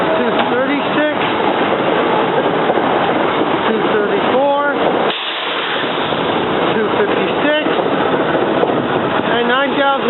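SEPTA R5 commuter rail cars pull out of a station bound for Doylestown with a loud, steady rumble and rhythmic clatter, while a voice talks over the noise.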